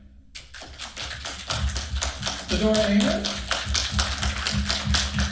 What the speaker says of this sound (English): how about a round of applause for our guest here tonight, Cynthia Graham